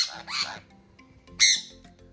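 Parrot in a home aviary giving two sharp, harsh squawks with a pause between them, against a quiet indoor background.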